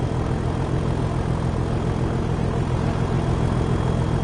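A locomotive engine thrashes hard in Train Sim World 4, a loud, steady, droning roar with a dense rumble that holds unbroken throughout with no talking.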